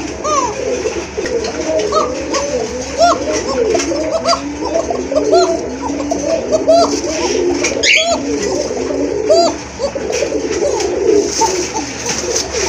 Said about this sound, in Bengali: এই যে দেখেন টপ ক্লাস এক জোড়া কোকা কবুতর, খুবই চমৎকার, একবারে চিকন সুরের কবুতর